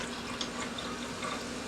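San Pellegrino Momenti sparkling drink pours steadily into a glass, a continuous splashing, fizzing rush at moderate volume with no pauses.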